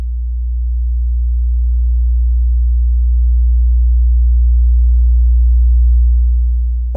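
Low synth tone passing through a Metasonix RK5 low pass gate, a steady deep hum that swells gradually louder over several seconds and then cuts off, heard alone without talking.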